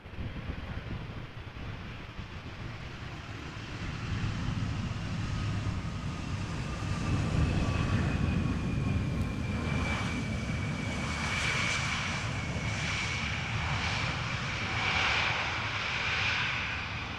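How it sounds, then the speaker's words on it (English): An Embraer 175 airliner arriving at Amsterdam Schiphol after a flight from Norwich, its engines roaring steadily with a rising whine throughout, a broad continuous rumble mixed with wind noise. "Embraer 175 arriving from Norwich"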